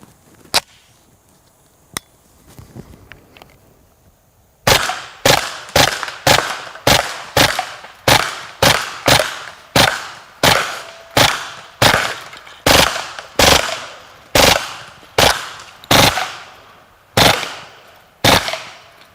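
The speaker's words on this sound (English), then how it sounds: "you can actually hear the difference in the rate of fire between the Plus P ammunition and some of the regular ball ammunition" A Kriss Vector submachine gun fires outdoors in a long series of sharp, loud, evenly spaced shots following a couple of isolated cracks and a quiet stretch.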